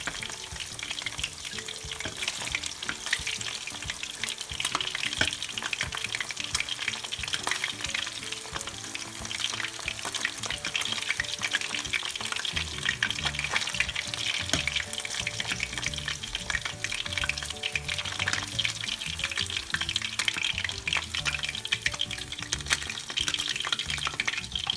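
Tilapia fillets frying in a pan give a steady, loud sizzle that runs without a break, with faint scraping and stirring sounds over it and no talk.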